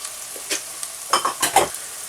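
Minced meat with black pepper, chili powder, turmeric, garam masala, salt and coriander powder being stirred in a pan, a soft low sizzle with a few short scraping strokes of the spoon, close and quiet.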